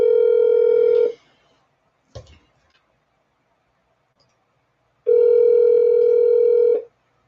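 A phone dial tone sounds while a call is placed, a loud steady electronic hum that cuts off after a second, then a brief click, silence, and the same tone returning for nearly two seconds.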